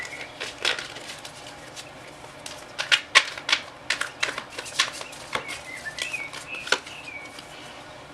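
Rapid riffling bursts of card shuffling, a series of sharp papery flutters and snaps repeating irregularly, close by with no talking.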